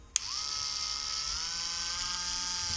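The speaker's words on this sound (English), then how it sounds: "at Harbor Freight, I did it's just a cordless buffer" A cordless Harbor Freight buffer polishing silver whirs steadily and close after a brief click at switch-on, its tone dropping slightly as it settles into a constant high-pitched motor drone.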